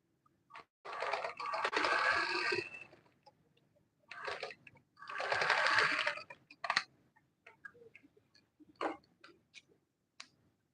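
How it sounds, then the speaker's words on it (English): A sewing machine stitches an Ankara peplum jacket in two fast, buzzing runs of a couple of seconds each, close and clear, with scattered clicks and short bursts between them. "Then I'll go ahead to stitch it to the end."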